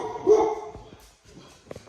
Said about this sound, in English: my dog's probably going to go crazy